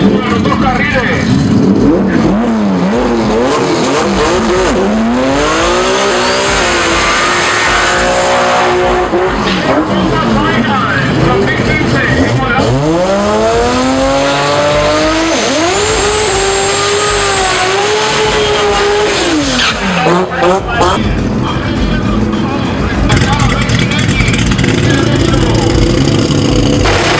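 Two drag racing cars with Microtech EFI engine management launch side by side down the strip. Loud engines rev and climb in repeated rising sweeps, with tire squeal and excited commentary talking over them throughout.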